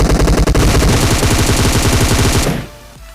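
Rapid automatic gunfire from a battle royale shooter game, a loud sustained burst of shots for about two and a half seconds that cuts off into quieter ambience.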